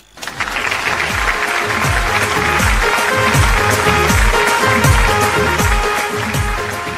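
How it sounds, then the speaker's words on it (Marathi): A live comedy show audience in Umroli, Palghar claps loudly and continuously, with the clapping falling into a steady, rhythmic beat as the crowd claps together. "जरा जोरदार टाळ्या वाजवायच्यात"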